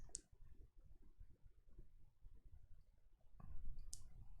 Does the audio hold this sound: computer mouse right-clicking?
yes